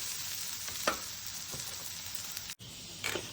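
Potatoes frying and browning in a pan, a soft continuous sizzle with a few light stirring scrapes, quiet and close with no talk.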